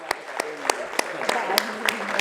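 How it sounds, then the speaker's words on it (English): Scattered claps at an awards ceremony honoring women entrepreneurs, sharp individual hand slaps spaced irregularly over a steady room murmur, fairly close and moderately loud. "Let's give a huge round of applause."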